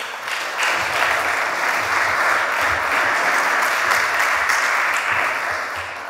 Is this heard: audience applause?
yes